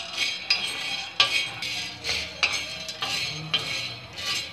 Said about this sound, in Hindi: अब हम इस पर चने डालेंगे और हम इसको भून लेंगे